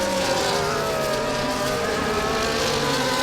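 Formula 1 race car engine from F1 24 at the Bahrain Grand Prix, a steady high-pitched whine held loud and close throughout, with rising harmonic tones as the car gains speed in a continuous pursuit.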